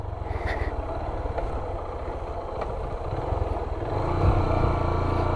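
A motorcycle engine hums steadily while riding on a rural road in Palanan, Isabela, a close, low drone with light clatter that swells slightly toward the end.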